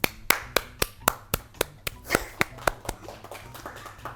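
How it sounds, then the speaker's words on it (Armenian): Hands clapping in a quick, even rhythm, about four sharp claps per second, close and fairly loud, slowing and softening slightly toward the end. "Ծափահարություն։"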